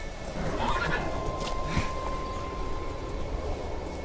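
Geralt's horse Roach in The Witcher 3 video game gives a single whinny partway through, set against steady game ambience with no speech over it.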